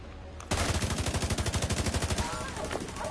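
Rapid automatic gunfire while shooting enemies in a video game, a fast steady burst of close, loud shots lasting about two seconds, then fading into background game noise.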